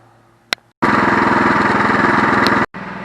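Cub Cadet 524 snow blower engine running after a carb cleaning, a loud, close, rapid chugging roar that cuts in abruptly, holds steady for about two seconds, then drops back to a quieter idle.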